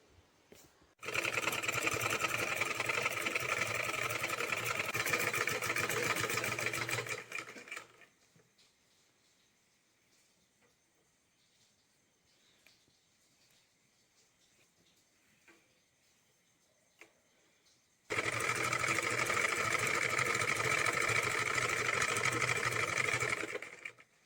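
A sewing machine stitches the border of a rug made from waste clothes in two rapid, even bursts of about six seconds each, separated by a long quiet pause.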